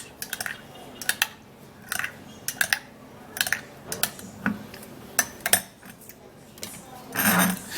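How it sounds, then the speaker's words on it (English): A spoon stirs and mixes a honey and banana mixture in a bowl, giving quiet, irregular clinks and taps in short clusters, close by with no voices. "now I would have to stir and mix it all up really good"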